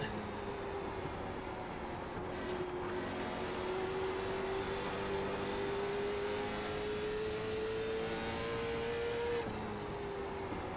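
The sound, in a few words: late model stock car racing in the iRacing video game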